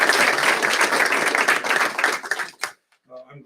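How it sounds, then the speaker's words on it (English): A crowd at a school board meeting claps in a dense burst of applause that stops abruptly, followed by a voice beginning to talk. "So if you would collectively give them a round of applause."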